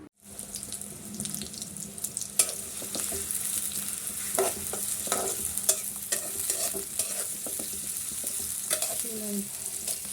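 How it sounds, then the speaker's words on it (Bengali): Chopped onions frying in hot mustard oil in a wok, a steady close sizzle with scraping and stirring throughout, no talking. "কড়াইতে তেল গরম করে নিয়েছি এবং পেঁয়াজ কুচি ভেজে নিচ্ছি।"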